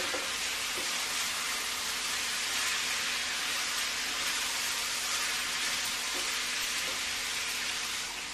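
Cabbage sabzi cooks on a low flame with an even, moderate hiss of frying that stays steady throughout, with no voices.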